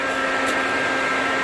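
Flex-a-lite electric radiator fan on a 1964 Oldsmobile Dynamic 88 running, a steady loud whirring hum with a broad airy rush and constant tone, close and unbroken throughout.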